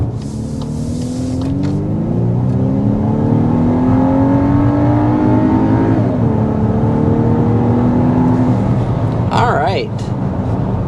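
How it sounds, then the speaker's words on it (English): A 2024 Volkswagen Atlas Cross Sport SUV accelerates hard from 0 to 60 mph, its engine note climbing loudly through gear changes with a steady rising drone from inside the cabin. "testing out the performance of that new engine with a hard 0 to 60 acceleration"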